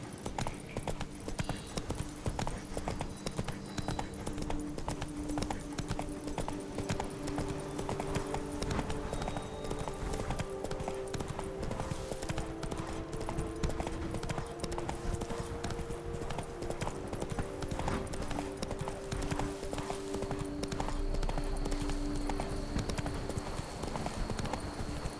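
A horse gallops in The Witcher 3: Blood and Wine, its hooves clip-clopping in a steady, continuous rhythm throughout, fairly soft and set against a faint ambient background.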